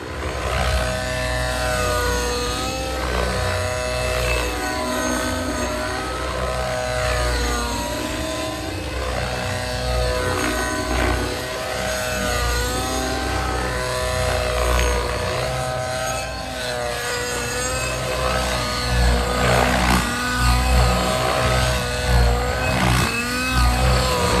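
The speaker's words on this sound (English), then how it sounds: "Obviously, we want to get it on the heli and make some noise." RC model helicopter fitted with an Absolute CNC power pipe exhaust, engine running and revving with a loud continuous buzzing whine that rises and falls throughout.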